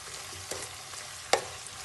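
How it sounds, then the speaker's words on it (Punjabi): Cumin and mustard seeds sizzle briefly in hot ghee with curry leaves nearby, a soft close crackle broken by a couple of sharp clicks or pops. "ਹੁਣ ਆਪਾਂ ਇਹਦੇ ਵਿੱਚ ਜੀਰਾ ਤੇ ਆਪਾਂ ਸਰੋਂ ਦੇ ਦਾਣੇ ਪਾਵਾਂਗੇ"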